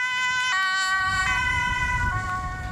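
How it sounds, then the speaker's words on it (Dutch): Ambulance siren on an emergency run at high speed, a loud, steady wailing tone with stepped pitch changes over continuous road and engine rumble. "Een spoedrit van een ambulance."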